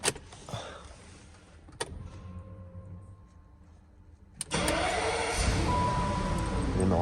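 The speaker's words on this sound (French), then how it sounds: "Rétro électrique. Obligatoire sur cette voiture quand vous vous retrouvez dans des endroits très serrés." Electric folding side mirrors on a BMW E38 750i whir briefly after a few clicks, followed by a louder steady mechanical hum from the car, close and clear with no voices.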